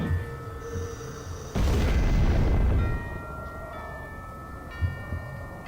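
An explosion in American McGee's Alice, a sudden loud booming blast that rumbles for about a second over a quiet game ambience with soft tones, then fades, followed by a smaller thump.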